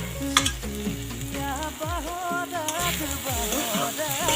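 Beet greens stir-fry in a hot pan with a steady crackling sizzle throughout, while music with a melody plays over the cooking.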